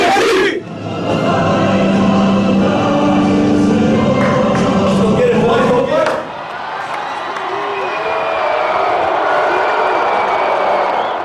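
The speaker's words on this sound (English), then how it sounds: "Talkin' Text is greeted by a booing crowd." A large crowd at a basketball game roars loudly and continuously, with a dense wash of voices swelling and then settling into a lower sustained murmur.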